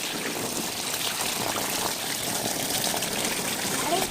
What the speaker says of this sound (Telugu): నెక్స్ట్ మోటార్ వేసేసి వాటర్ అయితే పడతాం